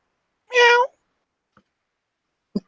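A cat lets out one loud, close meow, followed by two faint, brief clicks in an otherwise quiet room.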